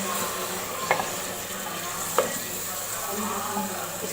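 Ginger garlic paste frying in oil for beef nihari, a continuous close sizzle with a couple of brief spatula scrapes against the pan as it is stirred.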